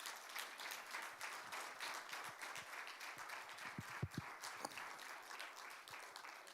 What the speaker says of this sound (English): can I have a warm applause?